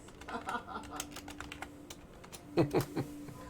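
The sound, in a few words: computer keyboard typing over voice chat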